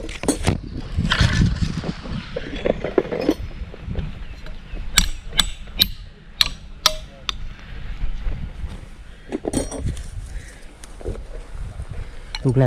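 A series of sharp hammer blows on iron spikes being driven into a tree to climb to a giant honeybee nest rings out, a quick run of strikes followed by a few more, with people talking nearby.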